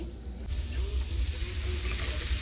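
Chopped cabbage hits hot mustard oil with fried potatoes in the pan, a soft steady sizzle that jumps louder partway through and keeps hissing evenly.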